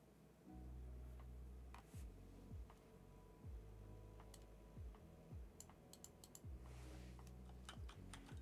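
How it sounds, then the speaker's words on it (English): A loud mechanical computer keyboard clatters with steady, rapid keystrokes and occasional heavier thumps of a larger key, close and alone with no voices. "I apologize for my massively loud keyboard"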